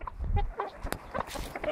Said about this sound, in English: Oh, we have another rooster trying to attack me.